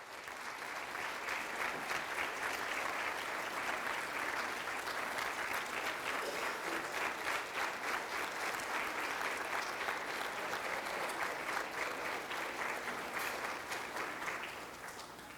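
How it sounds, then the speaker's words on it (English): Sustained audience applause at a high school hall of fame induction ceremony, a steady, dense wash of many hands clapping for about fifteen seconds before tapering slightly at the end. "Please give a warm round of applause to Mr. Chuck Murphy Jr."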